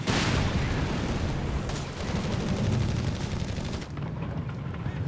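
Rapid, sustained bursts of heavy machine-gun fire from a Sherman tank's pintle-mounted .50 caliber gun in the strategy game Company of Heroes 3, loud and dense, mixed with other battlefield gunfire and booms.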